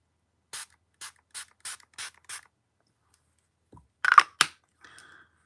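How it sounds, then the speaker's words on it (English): Six short, sharp bursts of Revolution Pore Minimizer Setting Spray in an even rhythm, then a pause, followed by a few louder hissy sprays and a clatter up close in a quiet room. "It's the Revolution Pore Minimizer Setting Spray."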